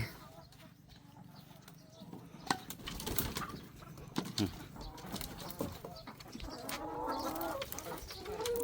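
Chickens cluck on a rural Thai family farm among rice fields where eggs are gathered, with scattered calls and short bursts over steady outdoor background noise, fairly distant.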